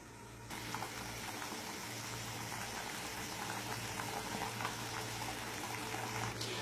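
Rice porridge simmering in a covered pot: a steady, soft bubbling and hiss of boiling liquid with a low hum, continuous and fairly quiet throughout.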